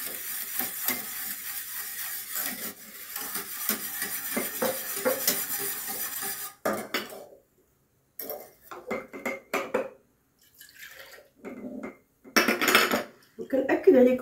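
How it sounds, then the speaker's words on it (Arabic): A whisk stirring milk and yogurt together in a bowl, quick rattling clinks and scraping against the container, steady at first and then in short irregular bursts with pauses. "غادي نخوي دابا فوق من وانا كنحرك بالزربة"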